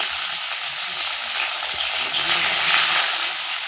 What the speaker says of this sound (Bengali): একটু লাল করে ভেজে নেব দিয়ে দেবো টমেটো কুচি